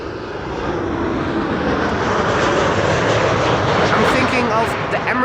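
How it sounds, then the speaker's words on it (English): An Emirates Airbus A380 lands at Amsterdam Schiphol Airport on a sunny day, a steady, loud jet engine roar filling the whole stretch, with a person talking over it. "when the Emirates A380 is going to land"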